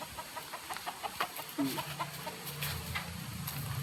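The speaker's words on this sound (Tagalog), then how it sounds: "Dito nakabanta yung mga manok." Chickens cluck in short, irregular bursts against a noisy outdoor background, moderately close.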